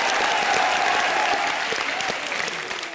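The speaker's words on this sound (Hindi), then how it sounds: "जोरदार तालियां हो जाए" A studio audience on the Colors TV comedy show Comedy Nights Bachao gives enthusiastic applause. The clapping forms a thick, even roar that holds steady for the whole stretch, with a faint tonal hum running beneath it.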